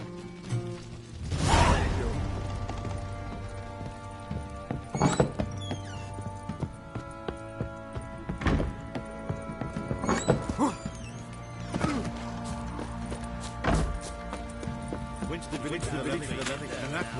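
Chopping in a PS4 game: a series of separate heavy thunks, spaced a few seconds apart, under ongoing conversation between players.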